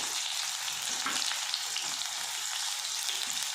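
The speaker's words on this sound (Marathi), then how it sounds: "आता कांदा चांगला परतून घ्यायचा लालसर होईपर्यंत" Onion, garlic and curry leaves frying in a pan, giving a steady close sizzle with soft stirring scrapes and no talking.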